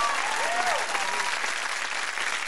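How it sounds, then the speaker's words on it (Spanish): On a 1992 Mexican television show with Lola Beltrán and Verónica Castro, a studio audience gives loud, continuous applause. A brief high whistle or call rises over the clapping early on. "si no van a aplaudir fuerte, mejor no aplaudan"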